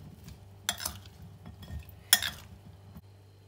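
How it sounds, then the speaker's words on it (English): A spoon stirring a pickled Scotch bonnet pepper mixture in a bowl, soft scraping swirls with two sharper clinks of metal against the container, close and quiet with no talk. "So now we're just going to mix everything together."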